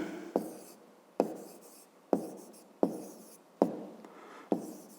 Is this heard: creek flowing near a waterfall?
no